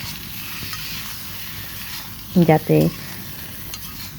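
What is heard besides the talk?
pointed gourd (potol) frying in light oil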